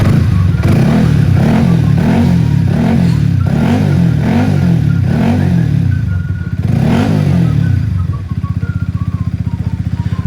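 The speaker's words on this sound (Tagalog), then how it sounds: "Pakinggan nyo ang tunog ng makina before and after." A motorcycle engine runs loud and close after a bearing replacement, with a steady, rhythmic pulsing chug, settling into an even idle near the end.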